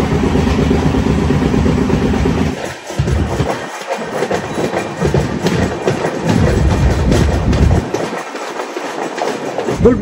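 The Himgiri Express rolls along the rails with a loud, steady rumble and rhythmic clatter heard from inside the train, its roar dipping and swelling as it slows.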